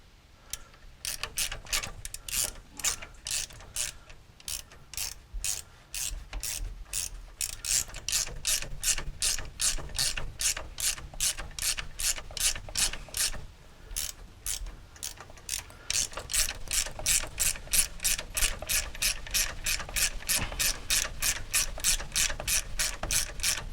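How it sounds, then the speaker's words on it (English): Steady rapid ratcheting clicks from a wrench tightening a part on the parking brake of a 1931 Plymouth, a dense mechanical rattle that runs nearly the whole time with a brief pause partway, close and fairly loud. "Let's tighten this up a little bit, and then we'll see how this."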